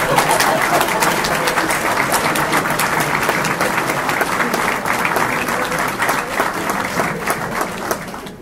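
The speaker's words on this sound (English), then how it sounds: "turn to your families, and give them a round of applause" Sustained, loud applause from a graduation conferring ceremony audience at LIT Thurles, families and supporters clapping steadily throughout with a dense, even roar of hands and no break.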